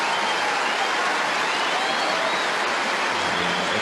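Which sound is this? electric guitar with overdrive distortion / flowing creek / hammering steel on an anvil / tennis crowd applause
tennis crowd applause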